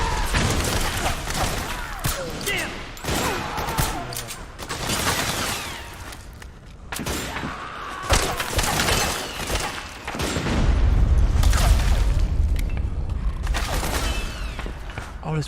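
Heavy gunfire in Metal Gear Solid 4: Guns of the Patriots on PS3, with loud, dense battlefield shots, bursts of automatic fire and booming impacts across the whole stretch, swelling into a deep rumble near the end.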